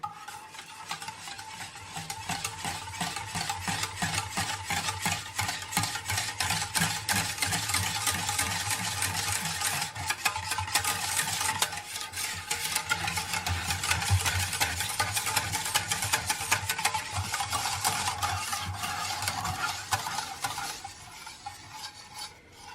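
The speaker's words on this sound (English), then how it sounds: "we'll whisk the yogurt in to combine together" Greek yogurt is whisked in a bowl with fast, rhythmic scraping strokes that run steadily for about twenty seconds before stopping, close and moderately loud, with no voices.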